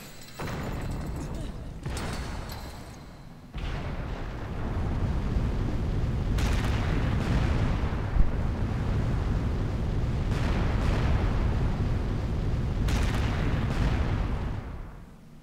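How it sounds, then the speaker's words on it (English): Grenade launcher shots and heavy explosions in Resident Evil 5, loud booming blasts with rumbling decay, several bursts across the span under continuous game action noise. "I will start with the grenade launcher out"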